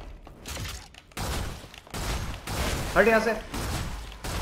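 Gunfire in the action game Stellar Blade, bursts of shots crackling through loud game sound with a sharp metallic burst near the middle, someone talking over much of it.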